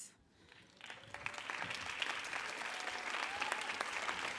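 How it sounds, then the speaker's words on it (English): A debate audience at an inter-municipality debate rises and applauds, the clapping swelling from near silence into a sustained, dense crowd ovation with scattered sharp claps standing out. "I'd just like to start by asking all of you to rise and just give yourselves a huge round of"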